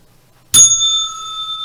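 A single bright bell strike rings out loud and close after a moment of near silence, its clear metallic tone sustaining and slowly fading.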